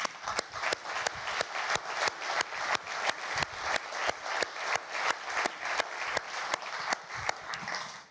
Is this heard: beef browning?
no